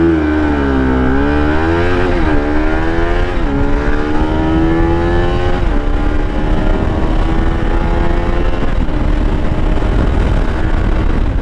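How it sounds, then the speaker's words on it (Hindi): A Bajaj Pulsar RS200 launches at full throttle, its engine whine rising steeply through several upshifts, loud and close with wind rush underneath and no talking. "और लॉन्च करते हैं बाइक को इन 3, 2, 1।"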